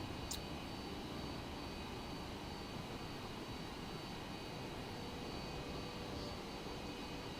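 Plane engine in a flight simulator during a takeoff run on a short runway, a steady, faint jet-like roar that holds evenly throughout with no talking.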